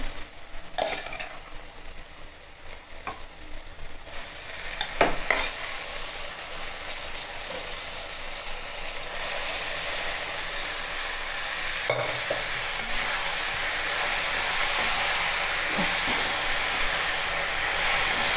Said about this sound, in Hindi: अब इसमें हम उबली हुई भाजी डाल देंगे।